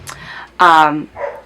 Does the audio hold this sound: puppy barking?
yes